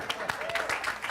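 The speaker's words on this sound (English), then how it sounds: "applause for Jack" Brief burst of applause from a group, with clapping mixed under voices.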